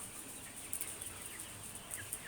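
Chickens cluck softly inside an open rack-style cage in a poultry house, brief faint calls rising over a steady hiss of background noise.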